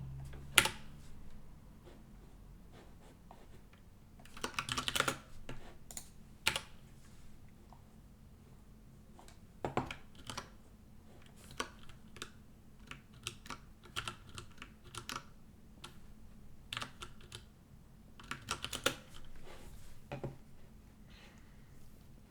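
Steady typing on a computer keyboard while programming, with irregular bursts of sharp, close key clicks and occasional louder strikes over a long stretch, with no talking.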